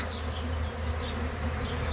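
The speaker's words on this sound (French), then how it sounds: "un essaim qui vient d'arriver sur la grosse mémère" A swarm of honeybees arriving at a hive makes a dense, continuous buzzing hum, close and steady, with individual bees whining past now and then.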